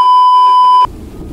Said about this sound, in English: Wait, may naririnig akong alarm eh.